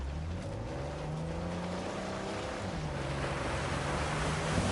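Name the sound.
waterfall in the video game Uncharted 4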